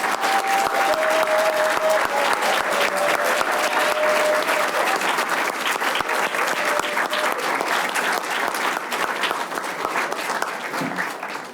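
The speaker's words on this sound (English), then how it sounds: "while you all stand and give them one more round of applause." A standing audience at a Kente donning ceremony applauds graduates and honorees, with loud, sustained clapping throughout, a faint tone threading through early on, tapering slightly at the close.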